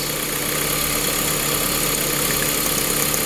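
Honda Fit car engine idling, heard close at the exhaust, a steady, even rumble that holds for a few seconds.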